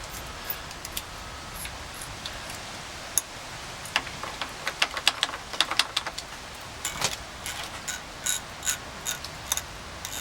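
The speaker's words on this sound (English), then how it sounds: "to tighten the clutch cable, you're going to spin this so it pulls it out" A sportbike's clutch cable adjuster is spun by hand to tighten the cable, giving a quiet run of small ratcheting clicks that thicken into a denser patter midway.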